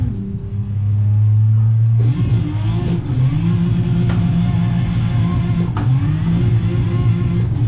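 Race car engine in a sim racing game on Queensland Raceway, revving hard and steadily while drifting, loud and continuous with surging pitch changes throughout.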